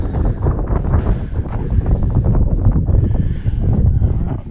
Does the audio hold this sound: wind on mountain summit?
yes